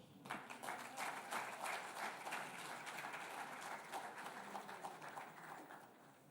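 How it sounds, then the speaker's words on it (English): Audience applause at a banking conference, a steady wash of many hands clapping that fills the whole stretch at moderate level and tapers slightly toward the end, with no talk over it. "Another round of applause for Konde."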